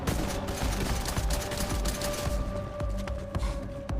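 Fortnite gunfire rattles in a dense, continuous fusillade of rapid shots, loud and close, with steady game ambience underneath and no talking.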